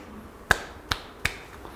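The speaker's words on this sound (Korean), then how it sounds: "박수." Sharp hand claps ring out in a lecture setting, three crisp, isolated strikes spaced under half a second apart against a quiet room background.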